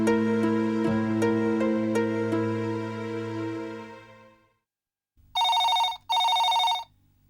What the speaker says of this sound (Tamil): ரிங் போயிட்டு இருக்குப்பா குமரா